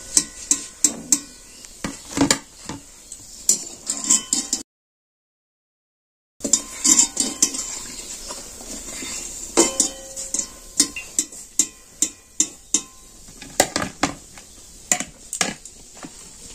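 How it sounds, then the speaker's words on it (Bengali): Metal slotted spoon clinking repeatedly against a pan or bowl while lifting deep-fried grape pantua sweets out of hot oil, sharp irregular taps and scrapes with a brief silent gap, no talking. "এবার আমি তেল ঝরিয়ে তুলে নিচ্ছি।"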